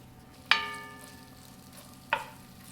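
A wooden spoon stirring garlic, walnuts and prunes in a pan: two sharp knocks of the spoon against the pan, the second about a second and a half after the first, over a faint steady sizzle.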